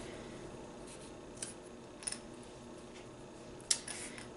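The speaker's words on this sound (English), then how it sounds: "So all you're going to do is cut the straws. I like cutting them in half first" Scissors snip plastic straws in half, three or four faint, sharp clicks scattered over a soft background hiss.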